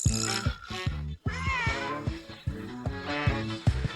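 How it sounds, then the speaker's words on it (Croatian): A cat in a video game meows several times in close, fairly loud, drawn-out cries with short gaps between them, with no talking. "Imam pravu mačku."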